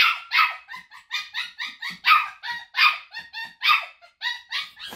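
A cockapoo puppy at night cries and barks in a fast run of high yips and whimpers, around a dozen bursts in quick succession, close and fairly loud with no other sound.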